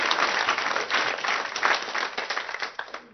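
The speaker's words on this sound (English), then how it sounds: "let's give Anne one more round of applause while she's here." An audience claps in a steady round of applause at an outdoor cochlear implant picnic, dense and sustained throughout with no speech over it.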